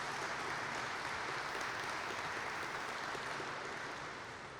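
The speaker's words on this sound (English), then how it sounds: "That deserves a round of applause right there." An audience at a state capitol event claps in a broad, continuous wash of applause, fairly distant and uniform throughout, tapering slightly at the close.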